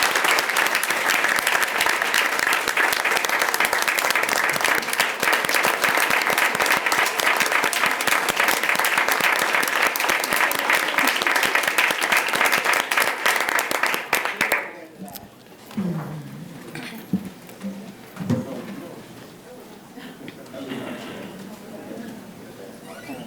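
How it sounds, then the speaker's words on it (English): A school district board meeting audience bursts into loud, sustained applause from many hands, filling the room for about fifteen seconds before fading into scattered movement and quiet room noise. "tonight I'd like everyone here to join with me in applauding these leaders"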